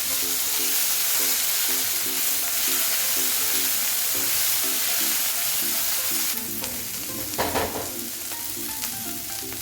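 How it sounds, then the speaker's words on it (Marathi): Masala sautéing in a pan for a gravy, stirred as it fries: a loud, continuous sizzle with rhythmic scraping strokes of the spoon, close up, and a louder clatter of stirring near the end, no talk. "मसाला परतून घेऊया."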